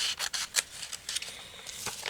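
Scissors snip paper for a journal craft project in a quiet room, a series of short, crisp cuts at an uneven pace, close and fairly soft.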